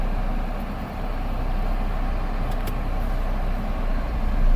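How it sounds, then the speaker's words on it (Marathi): An MG Astor with a 1.5-litre naturally aspirated petrol engine pulls away in first gear without throttle, giving a steady low engine hum and road rumble that swells slightly toward the end. "फर्स्ट गिअरमध्ये टाकून विदाऊट ॲक्सेलेटरच्या इनपुटवरती आपण गाडी उचलूयात बघूयात"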